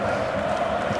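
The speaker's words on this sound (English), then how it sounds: "you can hear how the crowd are reacting to this too" A football stadium crowd in the PES 2018 video game during a Germany versus Sweden match, a steady roar of murmuring and cheering that fills the whole moment without pause.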